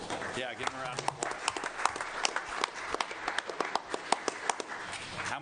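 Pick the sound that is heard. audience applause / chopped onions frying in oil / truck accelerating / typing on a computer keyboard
audience applause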